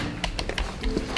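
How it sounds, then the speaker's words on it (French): Knocking on a door in a comedy sketch: a few separate, sharp raps spaced apart, moderately close and unaccompanied by talk. "qu'est-ce qui frappe à la porte?"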